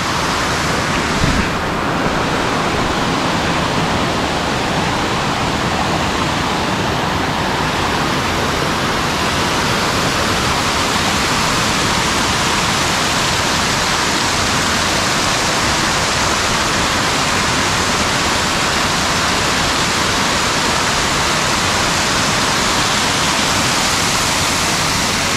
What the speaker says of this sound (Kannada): ಅಲ್ಲಿ ವ್ಯೂ ಪಾಯಿಂಟ್ ಹತ್ರ ಒಂದು ವಾಟರ್ ಫಾಲ್ಸ್ ಇದೆ ಕೆಳಗೆ ಅಂತ, ಇದೇ ಅದು ವಾಟರ್ ಫಾಲ್ಸ್.